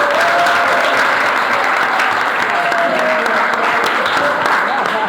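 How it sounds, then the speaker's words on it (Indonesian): Classroom of students clapping together in sustained, dense applause that fills the whole stretch, with faint voices mixed in underneath. "Tepuk tangan, kasih tepuk tangan"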